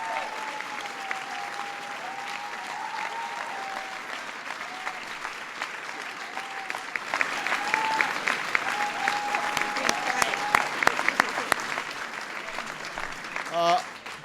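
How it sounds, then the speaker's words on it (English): Audience applause at a White House LGBT Pride reception, honoring Steve Hildebrand; steady crowd clapping at moderate level throughout, swelling a little toward the end, with a faint tonal murmur of voices underneath. "Please give Steve a big round of applause."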